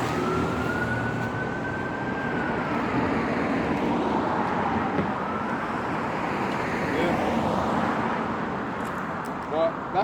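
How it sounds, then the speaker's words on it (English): Car tyres roll over a busy road in a steady, loud wash of traffic noise, with a siren tone gliding through the first half; the rushing road noise continues throughout. "the tyres that you're hearing will overtake what you're saying"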